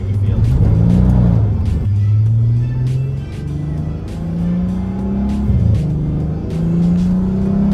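Modified V6 Volkswagen Passat with a loud exhaust and DSG gearbox, heard from inside while driving: a steady droning engine note rising through gears with brief dips at shifts, loud and continuous, with faint clicks over it.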